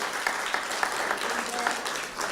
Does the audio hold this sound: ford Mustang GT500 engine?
no